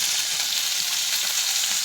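Fish sizzles in a pan over an outdoor fire, a continuous bright crackling fry with no pauses.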